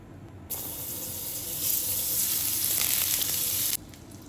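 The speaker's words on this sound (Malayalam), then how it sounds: "ഒരു പാന് ചൂടാകുമ്പോൾ അതിലോട്ട് 2 ടേബിൾ സ്പൂൺ ബട്ടർ ചേർത്ത് കൊടുക്കാം" Two tablespoons of butter hit a hot pan and burst into a bright, hissing sizzle that swells louder midway, holds for about three seconds, then cuts off abruptly.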